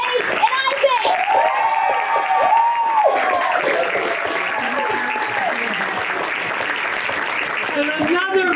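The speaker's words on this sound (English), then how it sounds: "Give one big round of applause for Calvin, Camilla, Dave, and Isaac." Audience applause at a Memorial Day magic show in a town hall theater, a dense steady wash of clapping and crowd noise lasting throughout, with children's voices and cheers rising above it.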